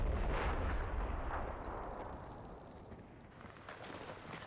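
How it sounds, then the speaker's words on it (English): A deep, rumbling explosion in the Combat Mission war game on a winter battlefield map, a heavy low boom at the start that rolls off into a long fading rumble, fairly faint overall. "That's an explosion."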